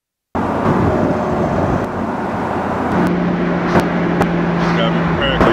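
A 2023 Porsche 992 4S Cabriolet in race mode builds a steady engine drone with road noise while accelerating, heard from inside the cabin. People talk over the engine throughout.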